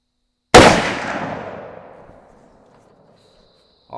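Single loud rifle shot from a Henry All-Weather lever-action in .45-70, fired outdoors nearby, a sharp crack followed by a long rolling echo that fades over about two seconds.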